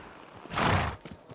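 Horse hooves clip-clopping in the medieval video game Kingdom Come: Deliverance 2, a short burst of hoofbeats rising to a loud peak mid-clip and then fading, with no talk over it.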